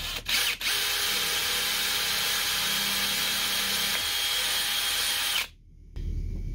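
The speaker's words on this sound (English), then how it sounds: "I'm going to drill this one first." A power drill whines steadily for about five seconds as a 3/16-inch bit bores a hole through a goat horn, then it cuts off abruptly, leaving a faint low hum.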